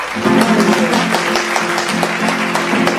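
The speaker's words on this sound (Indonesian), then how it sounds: "Kayak mana tepuk tangannya?" Children clapping during an online kids' church service, a steady wash of applause with scattered louder claps over a faint sustained musical tone, close and continuous throughout.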